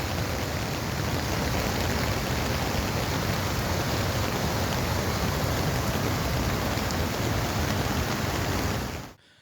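Heavy rain pouring steadily in the Vadakkencherry area during a landslide-producing downpour, a dense, loud, unbroken hiss lasting several seconds before cutting off abruptly.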